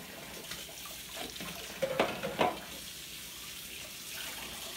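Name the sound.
rinsing juicer parts under a running tap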